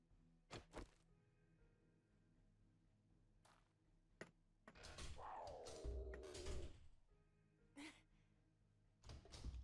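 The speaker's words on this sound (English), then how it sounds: "Oh God, he opened the door." A door opening in a modded video game, heard as scattered faint thunks and clicks followed by a louder sliding, creaking sweep in the middle, then a few more knocks, all quiet against a low background.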